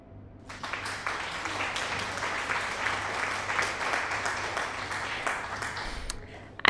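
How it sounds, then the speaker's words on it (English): An applause sound effect plays, a crowd clapping steadily and fairly loud for about six seconds before cutting off, with faint background noise underneath. "Let me play applause for you."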